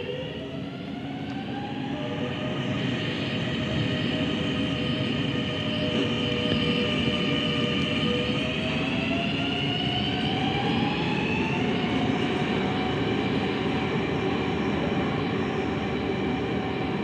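A metro train rumbles steadily through an underground tunnel station with rising and falling whining tones from its motors, loud and continuous, with no voices.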